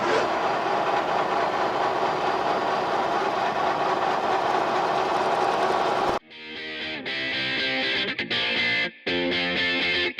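A lathe turns a steel shaft down along its full length to just over bearing size, giving a steady, loud machining drone that changes character partway through into a choppier, broken whine with brief gaps.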